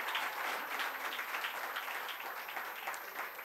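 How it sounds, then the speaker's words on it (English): Applause from an audience at a Women's History Month celebration, a dense, sustained wash of many hands clapping at moderate distance, steady throughout without voices. "Let's give another round of applause to Julie"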